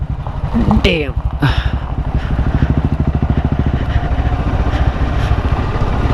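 A Bullet motorcycle's exhaust thumps in a steady, rapid idle rhythm close by, with a person talking over it at the start.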